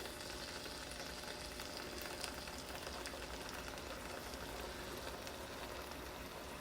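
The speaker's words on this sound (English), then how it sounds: "So I'm going to leave this alone by itself and let it get some sear." Beef searing in a pan for a traditional beef stroganoff gives a steady, even sizzle, close and moderately loud, with no talking over it.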